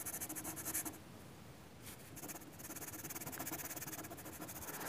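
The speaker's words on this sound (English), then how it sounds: "So I'm just going to touch very gently with that pencil." A charcoal pencil scrapes lightly across drawing paper in soft, continuous strokes, a quiet close-up hiss with a short pause partway through and no talking.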